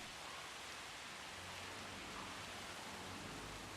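Rain in the video game Jurassic World Evolution, a steady, even hiss of falling rain that fills the whole clip with no talking.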